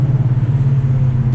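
Ford Mustang GT exhaust under hard acceleration, a loud, steady low rumble close up with no speech over it.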